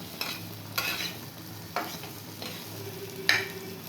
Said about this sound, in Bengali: আলুটা ভেজে তুলে রাখবো